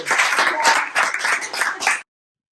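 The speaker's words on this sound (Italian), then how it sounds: "un applauso." Brisk applause from a small group, close and lively clapping for about two seconds before cutting to silence.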